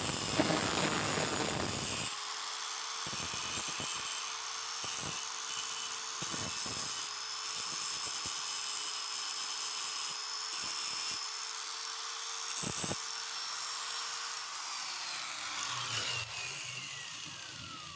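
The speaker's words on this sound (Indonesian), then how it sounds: "Lalu ini kita potong menggunakan gerinda ya." An angle grinder cuts through a stripped bolt with a sustained high whine, its pitch dipping under load with short interruptions and a falling tone as it winds down near the end.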